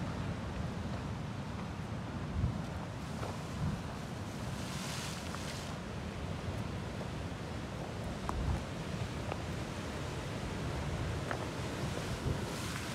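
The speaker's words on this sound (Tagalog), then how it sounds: "Lakas yung alon." Strong ocean waves roll and wash continuously, a steady broad rumble mixed with wind buffeting the microphone, the surge swelling slightly at moments and otherwise holding level throughout.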